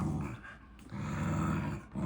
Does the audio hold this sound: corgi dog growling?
yes